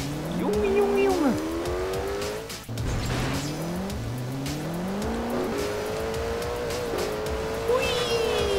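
A fast car in Garry's Mod races around a track with looping sections, its engine revving and shifting pitch up and down steadily close by, with a short dip partway through.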